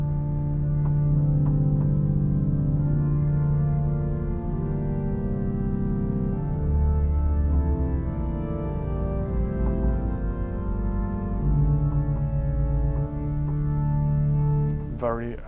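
An Austin pipe organ in a Baptist church plays with viola, Rohrflöte and principal stops drawn, giving sustained, gentle, warm chords that shift slowly and fill the space without any voices.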